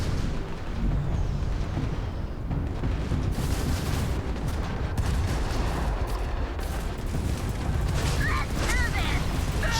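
Gunfire and turret fire in the space game Starfield, a dense, continuous barrage of shots and booms filling the whole stretch without pause.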